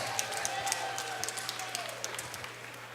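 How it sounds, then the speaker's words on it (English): Applause from the audience at a Triton Fights MMA event in Westbury, New York, clapping steadily for both fighters under an announcer's voice that carries over the crowd. "what do you say we get a nice round of applause out here for both of these fighters?"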